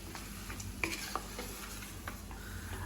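Onions, tomatoes and cashews with salt frying for butter chicken, stirred in a pan with a soft background sizzle and a few light utensil clinks and scrapes, quiet and close, without speech.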